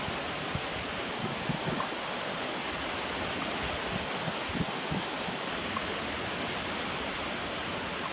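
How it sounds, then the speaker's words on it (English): Steady, broad wind noise rushes across the microphone for several seconds outdoors on the Gulf coast, with occasional low buffeting thumps and no voices. "And it's getting windy out here on the Gulf."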